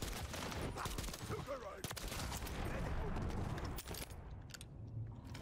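Rapid gunfire from a JAK Volkh marksman rifle in a video game, dense repeated shots with game effects, loud and continuous for most of the clip before easing near the end.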